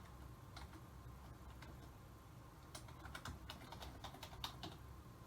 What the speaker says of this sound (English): then you're going to type in your last name.